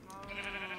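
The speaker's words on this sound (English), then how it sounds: "with some sheeps" Sheep in the Minecraft video game give a short, faint bleat on their own.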